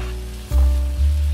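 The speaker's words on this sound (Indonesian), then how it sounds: "Kemudian kita aduk terus sampai teksturnya agak mengering." Mung bean filling for bakpia is stirred in a pan, giving a soft sizzle with two low scraping pushes of the spatula, close and alone.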